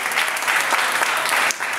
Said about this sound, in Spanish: Bríndele un aplauso y póngase de pie